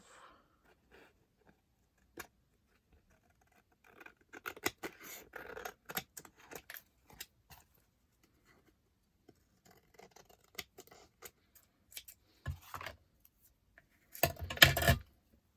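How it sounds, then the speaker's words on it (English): Scissors snipping away excess pattern vellum in short irregular bursts of crisp cuts, quiet overall with gaps between, ending in a louder, denser run of snips. "Okay, let's cut the excess off."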